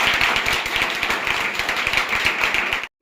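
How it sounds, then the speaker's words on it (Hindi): Students applaud a teacher-honored topper at a science coaching class, a room of hands clapping loud and close, fairly rhythmic and sustained, then cutting off abruptly at the end. "इनके लिए भी एक जोरदार तालियां"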